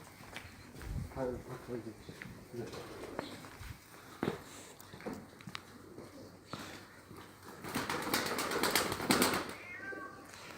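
Pigeons in a Dushanbe dovecote coo and flutter nearby, with a cat's meows, scattered footsteps and a voice mixed in.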